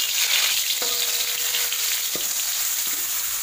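Ground spice paste and bay leaves fry in hot oil for kadedemes, a Sundanese cassava-peel dish, giving a steady close sizzle with a faint ringing scrape of a utensil, no voices.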